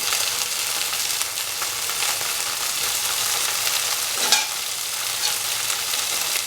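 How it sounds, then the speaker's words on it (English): Tomatoes sizzle steadily in a pan of golden-brown fried onions, a dense crackling hiss with a brief stir scrape midway, close and continuous without talk. "Now the onions have become a golden brown."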